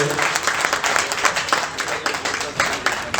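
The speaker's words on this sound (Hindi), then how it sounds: "जोरदार तालियां हो जाए" Audience applause at a Hindu religious gathering, a Maa Ambe maha yagya in Jamshedpur, arrives as a dense, steady patter of many hands clapping at close range, with a voice faintly mixed in.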